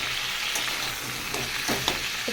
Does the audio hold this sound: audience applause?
no